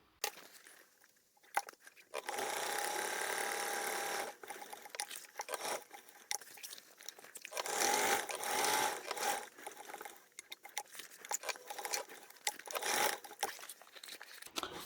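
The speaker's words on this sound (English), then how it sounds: "we're going to go over to the sewing machine. And like we did on the other one, we're just going to sew around the whole exterior" A sewing machine stitches around the whole exterior of a tote bag in several long loud runs, with short gaps and some crinkling handling of fabric between them, close and without speech.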